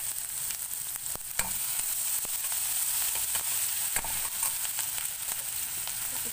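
Chili paste and spices frying steadily in a hot pan with kasuri methi, a constant close sizzle with a few sharp clicks of stirring throughout.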